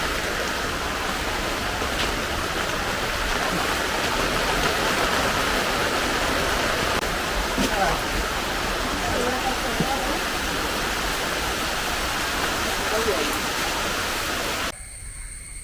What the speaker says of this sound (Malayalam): ഇന്നത്തെ മഴ ആരംഭിച്ചിരിക്കുകയാണ്.